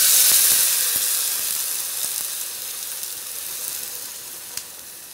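Water poured into a hot pan of softened onion, garlic and bell pepper sets off a loud hissing sizzle that slowly fades, with a few faint clinks.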